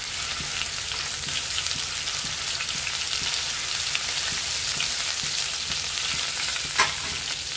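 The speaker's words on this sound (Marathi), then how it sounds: "तेल तापलं आपण त्यात आपण जिरं टाकून घेतलं। आता आलं लसूण पेस्ट टाकून घेऊ त्याच्यामध्ये।" Cumin seeds and ginger garlic paste fry in hot oil, giving a steady close sizzle with faint soft stirring scrapes and one brief brighter spurt near the end; no voices.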